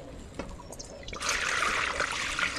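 Water poured into a large basin for a candied ash gourd (chal kumro) preparation, starting as a faint trickle and then a steady, fuller pour from about a second in, close by and alone.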